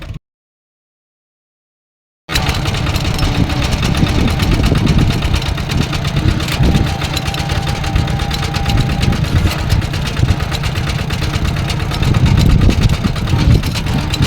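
A farm tractor engine runs steadily and loudly close by, a continuous low mechanical drone that starts abruptly after a brief silence and holds through to the end.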